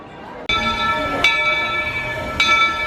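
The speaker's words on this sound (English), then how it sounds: "The train is not delayed." A train at Disney's Magic Kingdom sounds a bright ringing bell close by, with a couple of distinct clangs whose metallic tones hang over a steady low rumble of the moving train.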